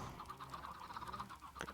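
Chickens in Minecraft cluck in a steady stream of soft, repeated calls with a sharper cluck near the end, faint and low in level over a constant game background, with no talking.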